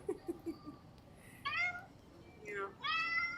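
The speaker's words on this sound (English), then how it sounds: "It's her meowing back." A pet cat gives several clear, drawn-out meows close by, between softer sounds and quiet background noise, with a person's voice faintly present.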